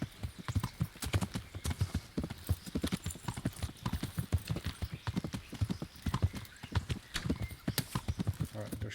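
Horse hooves clip-clopping at a steady gallop in the medieval game Kingdom Come Deliverance, a loud, continuous rhythmic pounding of hoofbeats with a brief whinny and some talk over it.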